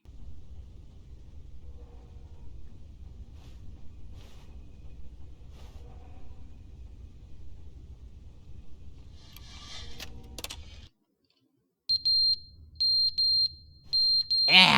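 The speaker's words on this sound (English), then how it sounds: "I guess the fire alarm battery has gone off." Low-battery chirps from a fire alarm in a video game, heard as a few short, high electronic beeps after a stretch of low rumbling ambience with faint voices.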